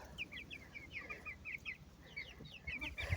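Small chicks peep and chirp in quick, repeated high notes close by, pecking at a block of feed, with faint scratching and rustling underneath.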